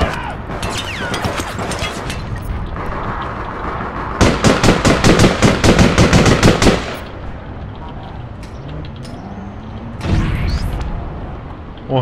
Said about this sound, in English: What a grenade.